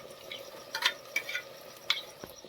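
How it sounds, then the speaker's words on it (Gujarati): Onion and garlic paste gravy frying in oil for undhiyu, a faint steady sizzle with a few light stirring scrapes of a spoon against the pan, close and quiet. "હવે આપણે ગ્રેવી શેકી લઈશું"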